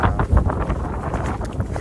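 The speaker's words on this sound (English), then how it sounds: "Add to that the wind." Wind blowing in the Smoky Mountains, gusting against the microphone in a brief, loud burst of rough buffeting with no voices.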